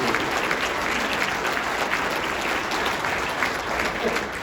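Dense, continuous applause from a large audience at a city's State of the City address, loud and steady throughout with no pauses.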